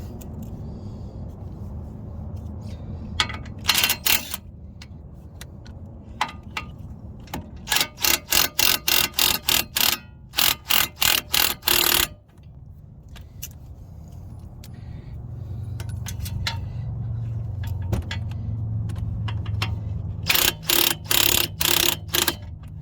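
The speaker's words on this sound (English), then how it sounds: "And let's get these bolts out." A ratchet removes suspension bolts from a Buick during a coilover install, with several bursts of quick, loud clicking separated by quieter gaps and low garage rumble.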